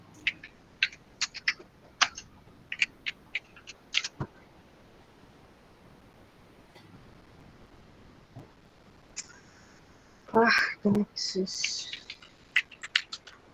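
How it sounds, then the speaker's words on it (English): Quick clicking keystrokes on a computer keyboard come in short bursts during a computer lab session, close and fairly faint, with a brief spoken word heard and a louder clatter near the end. "Who is typing?"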